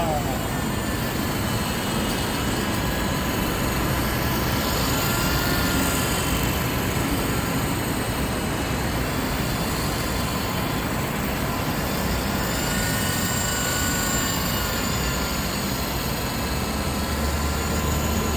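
A V913 remote-control helicopter flies outdoors on a calm day, giving a steady, loud, whirring rotor and motor drone that continues throughout with no breaks.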